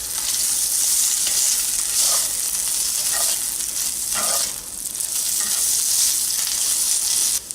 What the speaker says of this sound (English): Keep heating up the pork while stirring it around in that oil, getting it nice and warm